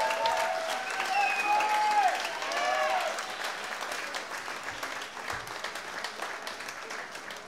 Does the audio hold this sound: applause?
yes